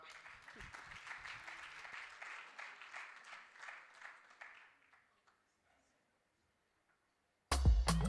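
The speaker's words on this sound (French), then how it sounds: "Sous vos applaudissements." Audience applause at a youth forum closing ceremony during a prize presentation, steady clapping that fades out around the midpoint, followed by near silence and then a sudden loud burst of other sound at the end.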